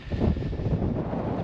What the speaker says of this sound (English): That wind forecast of 20 to 30 miles an hour has come true.